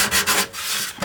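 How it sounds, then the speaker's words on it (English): Sanding block worked along a wooden edge, giving short rhythmic rubbing strokes that are close and scratchy, about four passes in quick succession. "you can take a sanding block like this and work these. Here when I'm sanding,"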